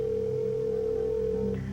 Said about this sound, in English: Friends at AT&T will get Peter on the line, see if he can help us here.